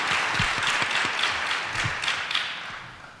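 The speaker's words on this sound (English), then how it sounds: "how about a round of applause for all of our panelists?" A round of applause for a panel of speakers at a launch event, a dense, steady wash of many hands clapping at close range, with a few heavier individual claps, easing slightly toward the end.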